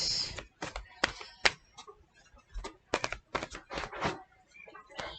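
Tarot cards shuffled by hand close to the microphone make an irregular run of crisp taps, flicks and riffles in quiet surroundings.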